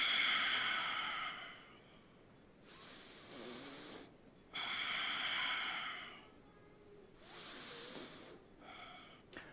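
Deep, slow breathing, long drawn inhales and exhales alternating at an unhurried pace, close and fairly quiet, with a raspy, snore-like texture and no talk.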